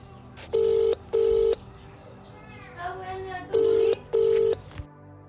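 A phone keypad beeps out a dialed number in short paired tones, then a ringback tone sounds before more dial beeps, with a voice talking in between.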